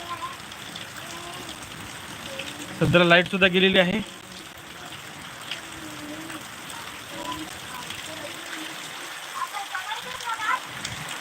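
Heavy rain driven by wind in Kinvat, Nanded, hisses steadily, with a burst of louder noise early on and someone speaking over it.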